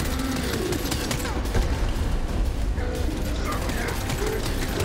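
Dense, continuous gunfire and mechanical clatter during a boss fight in Borderlands 3, a loud unbroken wall of shots and effects with a voice mixed in.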